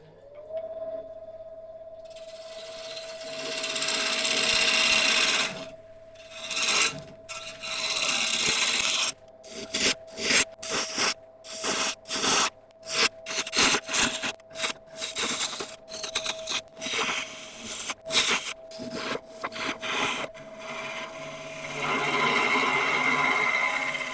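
A spindle roughing gouge cuts into a spinning wooden log on a lathe, giving a loud, continuous rasping scrape broken by repeated short pauses as the tool lifts off, with a steady motor hum underneath.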